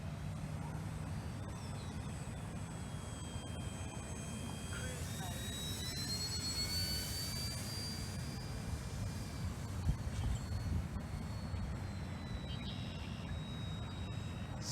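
Hobby King A-1 Skyraider 800mm RC model plane in cruise flight, a steady whine of its electric motor and prop carried over constant outdoor rumble, with faint talk in the background throughout.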